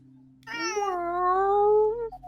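A human voice imitates a cat, giving a drawn-out, wavering meow that rises and falls, loud and close, with nothing else around it.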